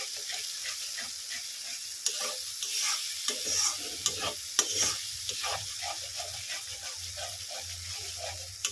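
A cashew masala for cauliflower rezala is stirred in a pan over low heat, a continuous bright sizzle and hiss with rhythmic scraping strokes of a spoon against the pan, close and steady.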